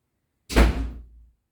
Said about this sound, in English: Oh, that was the door.